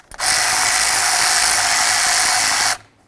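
A 10 mm bolt on the intake manifold of a 1998–2012 Ford Crown Victoria is loosened with a tool that gives a loud, continuous whirring buzz with a rapid ratcheting pulse underneath, running about two and a half seconds before cutting off abruptly.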